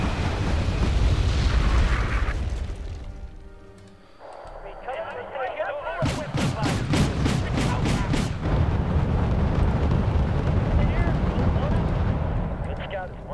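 Artillery barrage in the Cold War strategy game Wargame European Escalation, a dense roar of booms and blasts layered under steady battlefield din, with a brief lull before a rapid run of sharp impacts mid-way and a voice talking over it.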